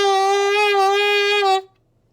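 An alto saxophone gooseneck gives a thin, buzzy sustained tone of about a second and a half that cuts off abruptly into silence.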